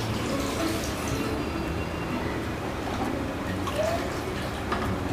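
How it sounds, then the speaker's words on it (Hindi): Water poured into a pressure cooker pot holding mutton korma ingredients, salt and a large onion: a steady, full-bodied splashing stream that runs unbroken for the whole stretch. "और पानी डालेंगे हम 400 ml।"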